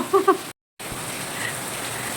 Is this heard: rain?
yes